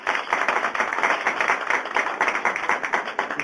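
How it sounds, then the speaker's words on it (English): An audience claps steadily throughout at a program launch event, a dense, even patter of many hands at moderate distance with no voices over it. "I want to give them a round of applause for all that they've done for us"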